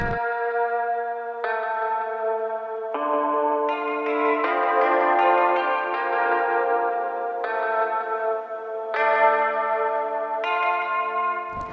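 A spacious post-punk instrumental groove with panned, chiming, bell-like synth chords shifting every couple of seconds, washed in chorus and echo, playing steadily without any voice.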